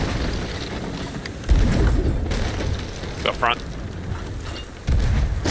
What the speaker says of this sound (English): I'm gonna get them off cannons.